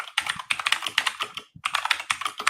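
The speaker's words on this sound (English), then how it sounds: "I have a very loud keyboard." Fast typing on a loud computer keyboard, heard close, with crisp clacking keystrokes in quick bursts and a brief pause before another flurry, and no talking.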